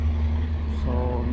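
A new Freightliner truck engine idles, a steady low diesel rumble with a constant hum, close and unbroken, while someone talks over it.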